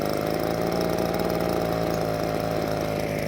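Proyama handheld gas leaf blower engine running steadily on full choke on a cold day, a loud, constant two-stroke drone with a rough, even pulse and no talking.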